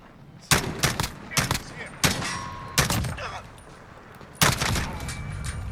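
SR-25 rifle firing in Call of Duty Modern Warfare: five sharp bursts of a few rounds each, spaced unevenly with short pauses between, loud and close, each trailing off into a brief echo.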